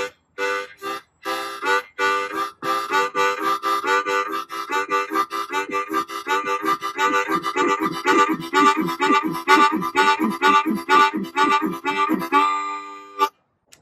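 Harmonica played fast to imitate a train, a rapid chugging rhythm of breathed chords that speeds up and keeps going, loud and close with no talking, finishing on a held chord.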